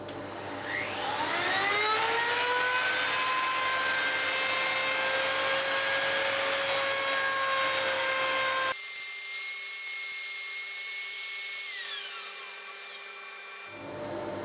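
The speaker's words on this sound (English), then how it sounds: "when I switch on the router it doesn't yank the" A wood router spinning up and running steadily during a guitar build, a loud sustained whine rising in pitch at switch-on, then shifting to a thinner tone partway through as it cuts, before winding down near the end.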